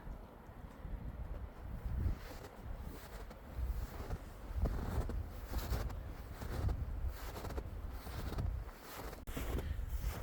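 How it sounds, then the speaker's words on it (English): Gusting wind buffets the microphone in uneven, rumbling surges, loud and close throughout, with no talking. "The wind."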